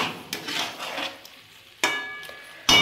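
Giant freshwater prawns (galda chingri) are sautéed in a pan, giving a soft sizzle broken by a few sharp scrapes and clinks of a utensil against the pan.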